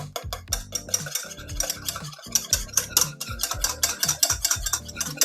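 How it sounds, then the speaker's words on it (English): A whisk beats pumpkin pie filling in a bowl with quick, rhythmic clinking strokes against the sides, close and steady with no talking. "I'm going to whisk this, as all the ingredients get combined up together."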